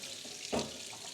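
Tea utensils being hand-washed under a running tap outdoors, a steady soft splash of water with a brief louder gush in the middle, no talk.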